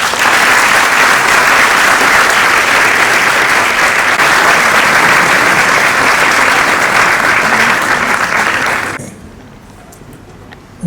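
An audience at a press event with Sonu Nigam and Shahid Rafi gives the guests loud, dense applause that holds steady for about nine seconds, then stops abruptly into near quiet.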